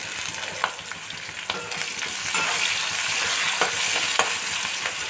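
Chopped onion and green chilli sizzle and crackle in hot oil in a pan, a steady close frying hiss with sharp pops and a few stirring scrapes throughout, no voices.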